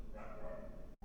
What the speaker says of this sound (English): those dogs are going crazy back there